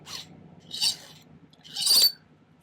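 A metal jewelry piece being hand-filed at a bench, three short raspy strokes spaced apart, close and moderately loud against a quiet background with no voices.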